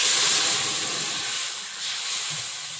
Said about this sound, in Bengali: এবার টক গলা জলটা দিয়ে দেবো